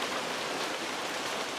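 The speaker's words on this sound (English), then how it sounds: "It's been raining all morning." Steady morning rain falls in a soft, even hiss with no breaks, moderately loud and without voices.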